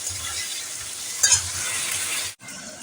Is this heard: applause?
no